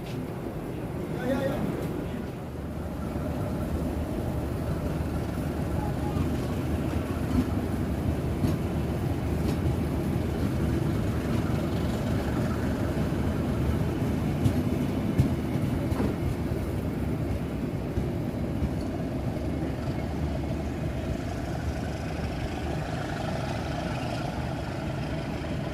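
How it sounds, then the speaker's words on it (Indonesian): Probowangi passenger train pulling away from the station, a long loud steady rumble and rolling clatter of wheels and engine throughout, with faint talk nearby. "kita rekam dulu Probowangi berangkat."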